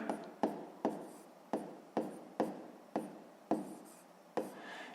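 A pen writes out a maths sum on paper: about ten short, distinct scratching strokes, close and fairly quiet, spaced at an uneven rhythm with no talking.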